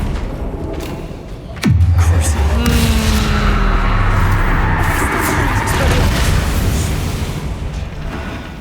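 Bombarda spell from Hogwarts Legacy blasting into a sharp, heavy explosion that drops into a deep rumble and lingers as a roaring tail for several seconds, loud and close, with game effects layered on top.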